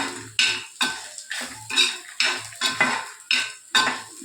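Toor dal is dry-roasted in a pan and stirred with a spoon, making about ten regular, close scraping strokes with a light sizzle between them.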